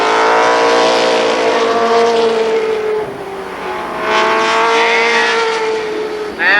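Race cars roar down the backstretch at Columbus Motor Speedway, a loud, sustained engine whine with rising and falling pitch as several cars pass close by.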